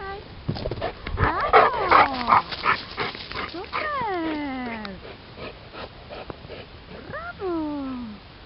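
A dog whines and yips in high, sliding cries, close by, with a few short barks in between.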